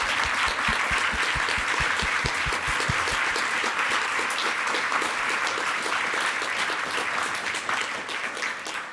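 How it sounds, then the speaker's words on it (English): Loud, sustained applause from a large audience, dense clapping throughout that eases slightly toward the end. "Let's give her a big round of applause"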